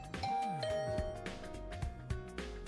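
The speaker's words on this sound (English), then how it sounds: "I rang the doorbell to Tsubasa's room." A doorbell chime in the video game The Hundred Line Last Defense Academy rings out over layered game music, a couple of bright tonal strikes standing clearly above the busy score.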